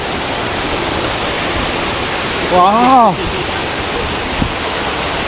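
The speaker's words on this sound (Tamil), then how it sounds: "வாவ், அந்த அருவியோட இந்த அருவி செம்மையாக இருக்குங்க." A waterfall in North Bali pours in a steady, full hiss, close and continuous, while a voice briefly exclaims over it midway.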